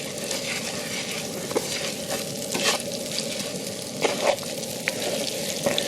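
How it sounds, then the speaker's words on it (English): Rice for paella is stir-fried in a pan, giving a steady sizzle broken by scraping and stirring sounds at irregular moments, close up and with no talk. "You see, I'm stir frying the rice."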